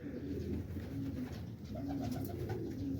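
Pigeons at a bird farm in Quetta, Pakistan, coo softly in low repeated throaty bursts, fairly faint against a quiet background with no talking.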